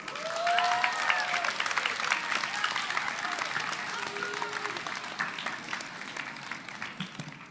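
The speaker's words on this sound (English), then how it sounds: "Half the crowd was clapping," A crowd claps after a student's spoken word poem at a grade 11/12 winter event, a dense run of applause with a few cheers and whoops that slowly thins toward the end.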